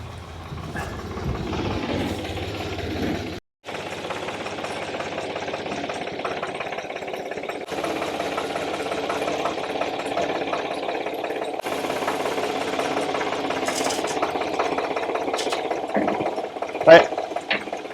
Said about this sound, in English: So we're going to bring the tractor over, push it back farther,